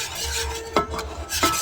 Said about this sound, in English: So I have added the water and I'm whisking it together